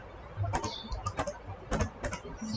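Computer mouse clicking in quick pairs while a LINE Official Account rich menu is set up on a computer, the sharp double clicks crisp and close, with a pause between bursts.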